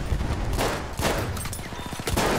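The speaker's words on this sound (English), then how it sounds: "there's another one with a machine gun that actually works" Machine gun bursts in a Battlefield match crackle in rapid repeated volleys, loud and close, with a tight run of quick shots near the end.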